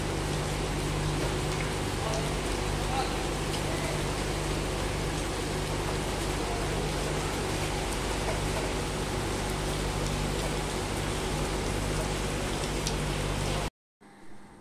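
Steady rain comes down in an even, continuous hiss with a faint low hum beneath it, then cuts off abruptly near the end.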